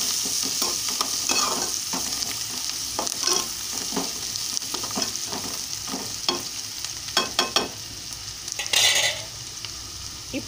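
Turmeric sizzles and fries in hot oil in a pan while preparing an okra curry, with a steady close crackle and occasional stirring scrapes, no talking.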